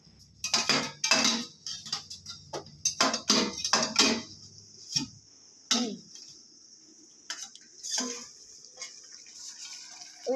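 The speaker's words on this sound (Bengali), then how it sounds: "মাংসের ঢাকাটা তোলো তো।" A metal lid clanks and rattles as it is lifted off a pot of braising mutton with fried potatoes, a series of sharp clinks and knocks with quiet pauses between them.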